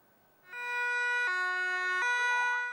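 An emergency siren at a rescue training ground starts up and wails loudly nearby, holding one tone, then switching pitch and sweeping, with no voices.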